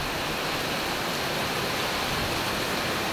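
Heavy typhoon rain pours down in Singapore near the sea, a loud, dense and unbroken hiss that fills everything with no voices over it.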